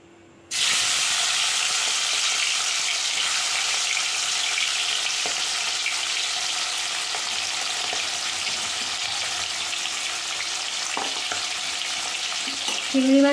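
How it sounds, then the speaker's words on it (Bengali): Prawns frying in mustard oil in a wok give a loud, steady sizzle that starts abruptly and runs unbroken to the end, close and with no voices. "চিংড়ি মাছটা আমি হালকা করে ভেজে নেব"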